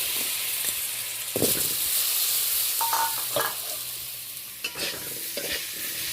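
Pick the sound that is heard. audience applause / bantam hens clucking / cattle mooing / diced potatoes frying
diced potatoes frying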